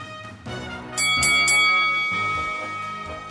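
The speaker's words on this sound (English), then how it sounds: "Now that's a prize fight bell." A boxing prize fight bell rings loud and close, with several sharp metallic clangs in a row whose resonant tones linger and slowly fade.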